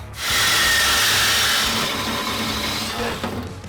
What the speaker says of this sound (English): Let me go get my bolt disconnecting saw